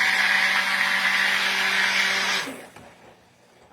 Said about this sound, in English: So I'm about to start this blender.